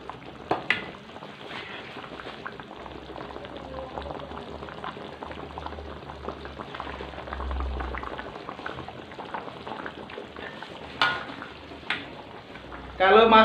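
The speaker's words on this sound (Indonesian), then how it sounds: "kuahnya pun sudah mendidih" Asam pedas beef bone broth bubbles at a rolling boil in a pot, a dense continuous crackle of popping bubbles, close and steady, with occasional clinks and a voice speaking now and then.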